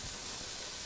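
Onions, garlic and peppers sizzle steadily in a hot pan, a continuous soft broadband hiss with no talking over it.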